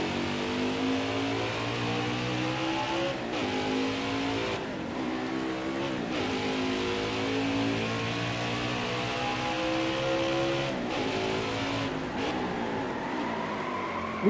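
Race car engines in NASCAR Heat 5 at Road America, a steady loud drone of several stock cars with rising and falling gear-change revs and brief shifts, continuous throughout.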